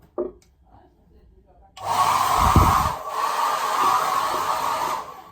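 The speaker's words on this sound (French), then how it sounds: "on a un sèche-cheveux aussi" After a brief knock, a hair dryer at a campsite switches on and runs with a loud, steady whirring blow that continues to the end.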